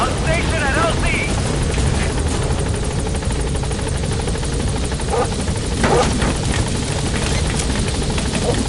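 Support helicopter B-Quad arriving at a landing zone in Metal Gear Solid V, a steady close rotor thump and engine whine filling the scene while a radio voice talks over it.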